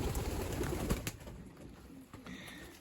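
Soft, low pigeon cooing close by, with shuffling and rustling noise around it, fading toward the end.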